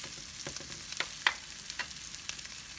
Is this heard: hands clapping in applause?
no